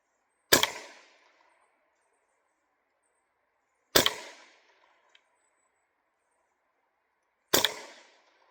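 Three single gunshots fired over a chronograph at an outdoor range, each a sharp crack with a short decaying tail, spaced roughly three and a half seconds apart, clear and isolated with silence between.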